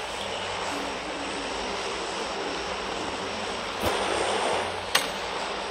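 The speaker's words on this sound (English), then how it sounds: "Ordinary aeroplane" A propeller airplane engine in the video game PUBG Mobile drones steadily and loudly throughout, with two brief sharp clicks near the end.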